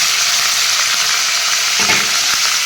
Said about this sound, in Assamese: ইয়াতে এতিয়া মাংসখিনি দি লওঁ। মাংসখিনি দি এনেদৰে তল ওপৰ কৰি লৰাই দি দিম।